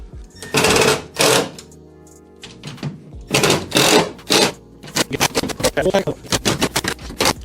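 A power tool tightens bolts on an aluminum truck cap fitted to a Jeep Gladiator, with loud, close bursts of rapid rattling hammering separated by short pauses, ending in quick repeated pulses.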